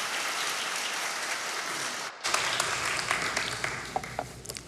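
Church congregation applauding during a Sunday worship service, a dense wash of clapping that pauses briefly in the middle and then swells again, with a few sharper claps standing out.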